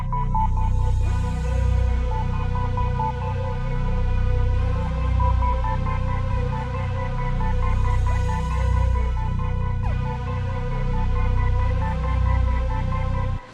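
A dark ambient loop layered with a Nexus preset, mixed with crisp high mids, with a droning pad, a pulsing low bass and a faint recurring melodic line, steady and loud.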